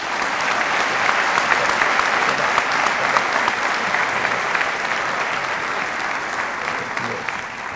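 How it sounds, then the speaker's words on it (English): Sustained applause from a football banquet audience honoring players, steady dense clapping that holds at an even level throughout, without voices on top. "Please give these guys a round of applause."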